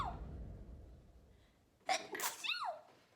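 A single sharp sneeze up close, preceded by a quick intake of breath, followed by a brief squeaky sniff-like tail.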